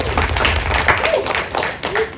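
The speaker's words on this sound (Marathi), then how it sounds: "जोरदार टाळ्या झाला पाहिजे" Loud, dense applause from a crowd at a Marathi film event greeting actress Pooja Sawant's entrance, steady and close throughout with faint voices mixed in.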